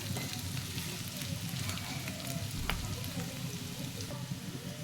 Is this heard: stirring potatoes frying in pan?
yes